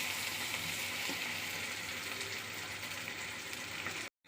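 Tomato, chili and curry leaves sauté in a hot pan for Chettinad chicken sukka, giving a steady, close, unbroken sizzle and crackle for about four seconds with no talking.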